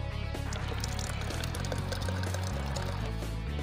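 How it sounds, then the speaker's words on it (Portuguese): Water pours steadily from a drinking fountain into a bottle during a morning bike ride, a close, continuous splashing gush with a shifting low gurgle as the container fills. "Eu vou pôr um pouco de água aqui."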